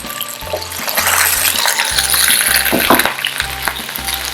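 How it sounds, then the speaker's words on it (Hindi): Capsicum and chopped onion hit hot oil in a pan for chicken jalfrezi, giving a loud, steady sizzle with bursts of crackling and some stirring scrapes, alone without talk. "ऑयल गर्म हो चुका है, अब हम इसमें शिमला मिर्च ऐड करेंगे, साथ ही हम प्याज ऐड कर देंगे"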